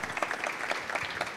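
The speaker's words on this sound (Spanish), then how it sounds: "démosles un fuerte aplauso" Applause from an audience at a talk on enterprise mobile software development, a short steady patter of clapping.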